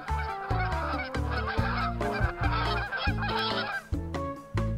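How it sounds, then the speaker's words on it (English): A flock of geese flying overhead on a cold day, honking loudly and repeatedly in a busy, overlapping chorus of nasal calls, close and energetic, with no talk. "A flock of geese passed over us"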